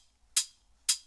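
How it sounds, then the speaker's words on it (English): Two crisp, bright hi-hat hits from a sample, spaced about half a second apart, each a quick airy tick that decays fast over near silence. "And then we're also emphasizing the rhythm with this hi-hat sample"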